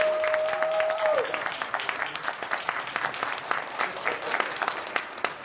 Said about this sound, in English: round of applause for these cats